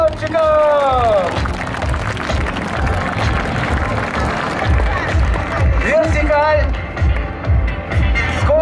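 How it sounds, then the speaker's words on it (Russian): Spectators at an air show in Zhukovsky applaud the Yak-54 aerobatic pilots. A steady patter of clapping mixes with crowd chatter and occasional rising tones over a low rumble, and a voice speaks over the top. "Аплодируем летчикам!"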